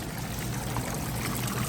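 A Scotsman ice machine's pump drains water mixed with cleaner during its rinse cycle, producing a steady, close rushing and trickling flow with a low hum underneath, unbroken and without any talk.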